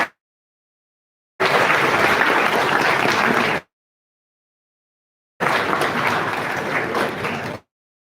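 Two separate bursts of audience applause for a student rank holder at a college induction program, each lasting a couple of seconds with silence in between, full and steady from a sizeable crowd.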